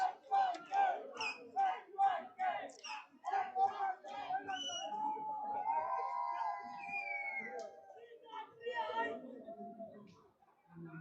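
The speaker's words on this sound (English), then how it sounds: "Lots of support for NYK, cheering for their players." Supporters at a Gulf Marine Challenge Cup cricket match cheer for the NYK players, a rhythmic chant of close, excited voices with pulsing shouts, then looser overlapping yells and chatter.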